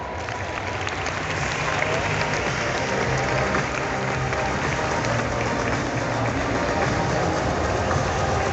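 Crowd applause for cosplayers dressed as Hornet and Ghost at a Paris manga cosplay parade, a dense steady roar of clapping and cheering that fills the whole stretch with music or voices mixed underneath.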